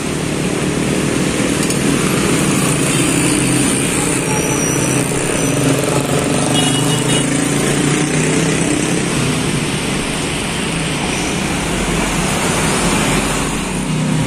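A Laju Prima intercity bus, number 181, pulls up at a roadside bus ticket agent with a steady, broad engine and road rumble close by, continuous and fairly loud throughout.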